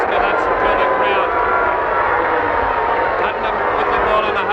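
A large stadium crowd roars continuously at the 1966 VFL Grand Final between Collingwood and St Kilda, a loud sustained wash of massed voices with no breaks.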